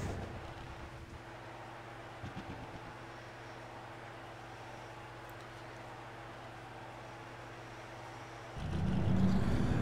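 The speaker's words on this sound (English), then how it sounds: "Drivers, start your engines!" Stock-car engines fire up in a racing video game at Daytona before the Coke Zero 400, a steady low idle rumble swelling into a louder, fuller engine roar near the end, with no talk.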